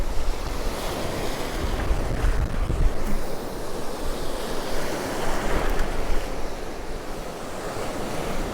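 Sea waves break and wash around at Cromer Beach, a continuous surging roar with heavy wind buffeting the microphone, close and fairly loud, with no talking.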